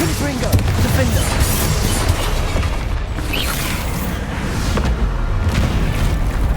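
Booming Confringo blasting-spell explosions in Hogwarts Legacy combat, dense and loud, with repeated thuds and bursts blending into a continuous rumbling fight mix.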